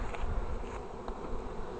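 A honey bee swarm produces a dense, continuous buzzing drone heard up close, steady and fairly loud throughout a short stretch with no voices.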